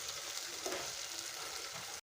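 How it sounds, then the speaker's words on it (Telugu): Ginger garlic paste fries in a pan for coconut milk rice, giving a soft, even sizzle that runs steadily and then cuts off abruptly. "అల్లం వెల్లుల్లి పేస్ట్ సరిపోతుంది, చాలు. ఇది కూడా బాగా వేగిపోవాలి."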